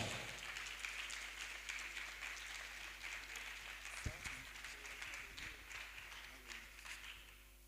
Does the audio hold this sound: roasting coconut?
no